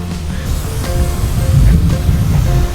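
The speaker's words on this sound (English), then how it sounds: "So they've got the water going. They've got the water going." A lawn sprinkler sprays water over grass in a steady hissing rush, loud and close, with a low rumbling undertone and no voices.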